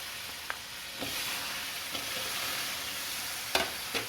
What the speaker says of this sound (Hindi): उसके बाद गुड़ डालना है तेल में।